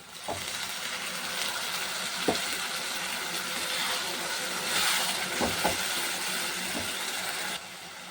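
Spice paste hitting hot oil with lightly fried onions in a pan, giving a steady loud sizzle and hiss with a few sharp pops and crackles throughout.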